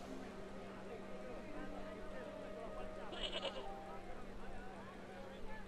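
A goat in the adventure game Baphomets Fluch 2 gives a short bleat near the middle, rising briefly above a steady bed of game music and ambient noise.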